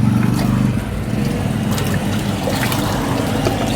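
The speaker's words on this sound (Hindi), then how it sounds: "अब हमको साफ पानी से इसमें धो देना है" Clean water rinsing a screen-printing screen used for wedding-card printing, heard as a continuous close wash of spraying and splattering water over a steady low drone.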